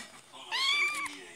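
A video game cat in Multicraft gives one rising and falling meow, fairly close and clear, with light background noise and a voice speaking softly around it.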